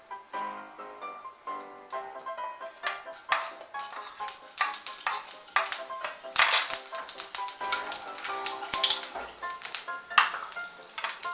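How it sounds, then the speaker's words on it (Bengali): Dry red chillies crackle and sizzle in hot oil for a drumstick curry while a utensil scrapes and clatters against the pan in irregular stirring strokes; the frying builds louder after the first few seconds, with no voices. "আর শুকনো লঙ্কা ফোড়ন দিচ্ছি। একটু নাড়াচাড়া করে এর মধ্যে পাঁচফোড়ন আর আদা থেতোটা দিয়ে দেব।"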